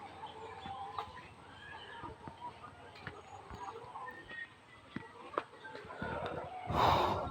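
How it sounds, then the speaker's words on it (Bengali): Chickens inside a poultry farm cluck and call faintly in the background, with a person speaking over the flock throughout. "ভিতরে কিন্তু অনেক মুরগি রয়েছে"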